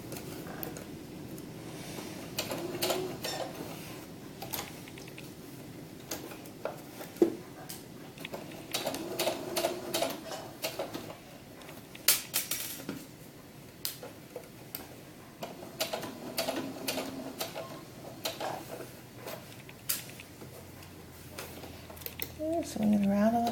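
A sewing machine stitches the bodice of a historical ball gown for a doll, a fast ticking run in short bursts and pauses, with a person talking over it.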